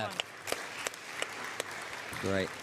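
A home crowd at a table tennis match in the ETTU Champions League, KTS Enea Siarkopol Tarnobrzeg vs TTC Berlin Eastside, gives a light, scattered applause with a few sharp claps, heard faintly beneath the steady hum of the arena.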